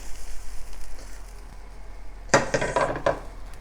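Browned carrots, onions and garlic are dumped into a hot pan for chicken cacciatore. After a quiet stretch comes a sudden clatter and hiss, followed by a brief burst of scraping and sizzling close by.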